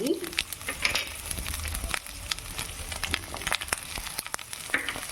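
Okra, beans, carrot, pumpkin, ridge gourd and bottle gourd fry in oil for Kerala-style aviyal, giving a close, crackling sizzle with scattered stirring scrapes and light pops.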